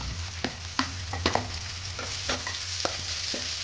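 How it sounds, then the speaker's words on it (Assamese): Dry red chillies sizzle in hot oil in a wok, a steady crackling fry with sharp pops and spits scattered through it, close and moderately loud. "প্ৰথমতে তেলত দিলোঁ শুকান জলকীয়া"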